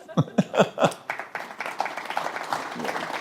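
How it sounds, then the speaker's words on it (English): An audience at an honoree event bursts into applause after a few sharp, separate claps that open the sound. The claps quickly blend into a denser, sustained patter, with some voices and a chuckle mixed in. "Maybe a big applause for that."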